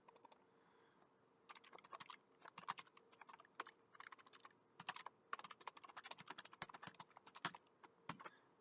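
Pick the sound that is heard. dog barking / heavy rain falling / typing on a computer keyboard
typing on a computer keyboard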